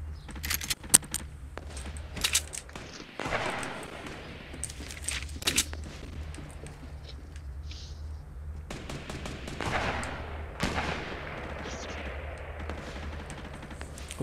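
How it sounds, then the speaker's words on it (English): Bursts of rapid gunfire crack out repeatedly in Fortnite, some sharp and close, others in longer rattling volleys, over a steady low background hum. "Where's the gunfire coming from?"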